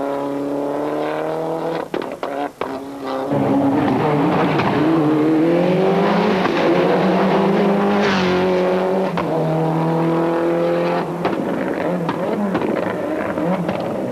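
A Renault Maxi rally car accelerates hard at Spa through a car park section. Its loud, close engine revs climb and drop through several quick gear changes in one continuous roar.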